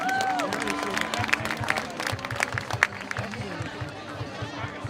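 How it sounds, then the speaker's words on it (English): Applause and cheering from a crowd at a high school football game honoring the volleyball team, a dense wash of clapping with shouts and crowd chatter mixed in throughout. "How about a round of applause for the volleyball team?"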